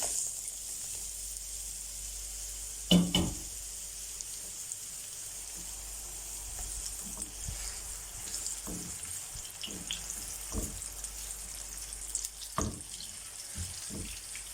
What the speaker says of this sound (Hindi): ऑयल जो है वो हमारा गर्म हो चुका है और अभी मैं इसके अंदर ऐड करूँगी प्याज